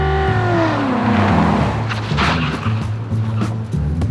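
An armored presidential car accelerates hard through a chicane on a test course, the engine revving loudly with a falling then rising pitch, followed by tire and mechanical noise as it passes close by.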